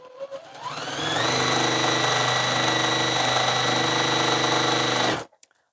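A domestic sewing machine stitches fabric, spinning up after a couple of short taps into a steady, loud mechanical whir with a fast regular rhythm, then stopping abruptly near the end.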